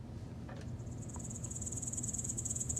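Grasshoppers or locusts chirp in a dense, steady high-pitched pulsing trill that builds slightly over time, layered over a low ambient rumble in a swampy outdoor soundscape.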